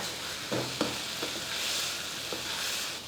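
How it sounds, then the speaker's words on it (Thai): Chicken breast stir-fried with chili and salt in a hot pan, a steady broadband sizzle with a few sharp spatula scrapes and knocks spaced through, close and alone with no talking. "ผัดไปมาพอเข้ากันค่ะ"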